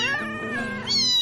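A cat gives a drawn-out, wavering meow, close and loud. A second rising cry follows at the end, and nothing else is heard.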